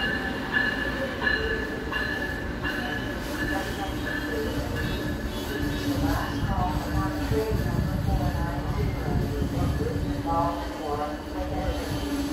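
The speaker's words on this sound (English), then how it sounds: "A train is approaching." An Amtrak Northeast Regional train approaches a platform at New Carrollton station, a steady loud rumble of wheels and rail noise with squealing tones building throughout, while people talk and a station announcement plays nearby.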